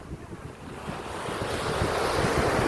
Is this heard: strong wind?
yes